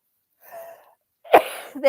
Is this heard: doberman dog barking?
no